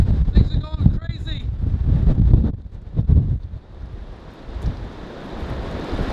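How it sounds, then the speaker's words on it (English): Strong storm winds over 50 mph buffet the microphone at a Cape Cod campsite in Provincetown, Massachusetts, with loud gusting rumble and rushing noise, while a person talks through the early part. "You can just see we have 50 mile an hour winds."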